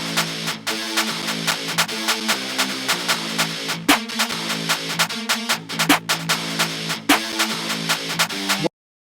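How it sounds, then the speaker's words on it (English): A drill beat built with hi-hat and snare only, the hats ticking in a fast rolling pattern and the snare cracking at steady intervals, dense and loud before stopping abruptly. "after the hi-hat, I introduced the snare, so it's just the hi-hat and the snare playing."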